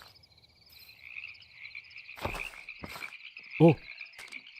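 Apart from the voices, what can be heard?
frog croaking in the video game Minecraft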